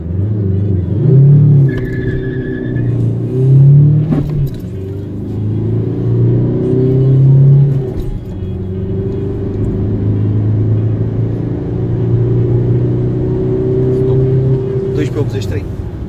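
A VW Golf 5 Plus accelerating from a standstill to 100 km/h, a steady engine drone rising and falling through gear changes, heard from inside the car with a voice talking over it.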